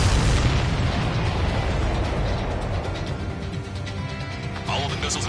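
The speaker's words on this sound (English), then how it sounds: "All of the missiles have been destroyed." Missiles exploding as they are destroyed in Ace Combat 7 on PS5: a loud, continuous wall of rumbling blasts and bursting pops, dense and heavy for the whole stretch.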